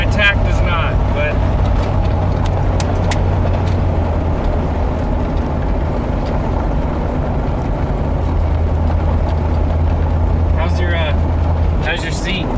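A 1972 Corvette, long abandoned and freshly revived, drives along with its hood on, a steady low engine rumble and road noise running throughout while people talk over it inside the car.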